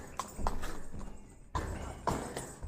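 Hooves strike the ground in uneven bursts of clip-clop, close by, with a few heavier thuds and faint voices in the background.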